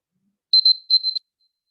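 A short electronic alarm beeps in two quick bursts of rapid high tones, separated by a brief gap, clear and alone against silence.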